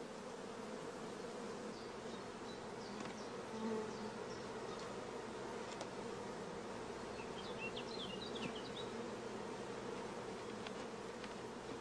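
Dense swarm of honeybees buzzing steadily around an open beehive during queen rearing as frames are moved into the super, a continuous close hum with a few louder individual bees passing near.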